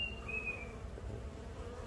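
Honey bees buzzing around lychee blossoms, a soft continuous hum of many insects at moderate distance, with a brief thin whine passing near early on.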